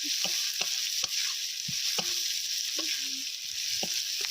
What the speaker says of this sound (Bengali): ডিম কড়াইগুলো হালকা ভাজা হয়ে এসেছে